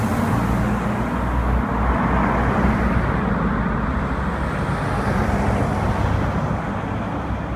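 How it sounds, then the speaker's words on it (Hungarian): Loud, continuous car traffic roars close by on a shopping street in Ireland, a dense steady wash of road noise with no pauses. "nagyon hangosak az autók"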